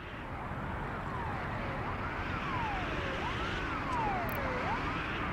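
A wailing ambulance siren from the Soviet-era city-building game Workers & Resources: Soviet Republic rises and falls in slow, repeated sweeps, steady and moderately loud over a dense background hum.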